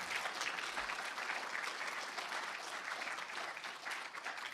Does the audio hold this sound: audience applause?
yes